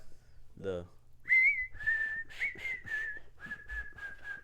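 A person whistles a short tune up close, a clear pitched melody of several sustained notes following a brief low sound, with a faint hum beneath.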